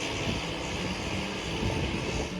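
A departing airplane at an airport in Nepal gives a steady, loud broadband engine roar with a hissing, whining tone, continuous and fairly near.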